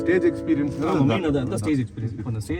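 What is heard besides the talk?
No distinct noise like a dog, phone or traffic.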